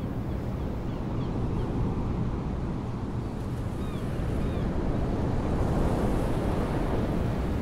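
Continuous roar of ocean waves breaking on a beach and rocks, dense and steady with wind buffeting the microphone and faint high bird cries drifting over the surf.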